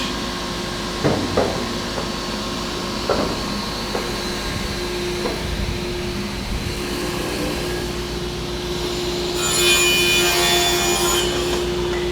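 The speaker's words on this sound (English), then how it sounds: "This saw cuts to 1/1000th of an inch." A precision saw cuts wood against a constant mechanical hum, with a few sharp knocks early on and a brighter, louder whine of cutting toward the end.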